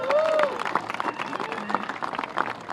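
An audience at a public event applauds a township mayor as she comes up to speak, with steady clapping and a few cheers that stay fairly loud throughout.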